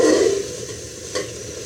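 Food fries in oil in a pan, a close, loud burst of sizzle that fades into a softer steady hiss with a single stirring scrape, no talk.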